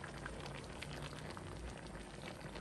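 Coconut cream poured into a simmering crab and malunggay stew in a pot, a steady bubbling, sizzling liquid sound that runs throughout without pause.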